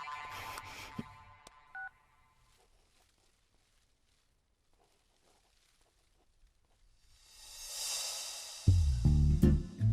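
A telephone is dialed in a Hindi-dubbed South Indian action film, opening with a quick run of clear keypad tones. A long quiet gap follows, then other noises build near the end.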